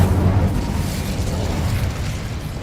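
An Incendio fire spell in Hogwarts Legacy on PS5, a burst of roaring, whooshing flame that hits loud at the start and rumbles on as it slowly fades.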